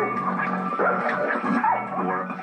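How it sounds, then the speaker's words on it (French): A dog gives short yips and whimpering barks in a quick, irregular run, close and fairly loud, with no growl standing out. "Il gronde, il aboie, il montre les crocs."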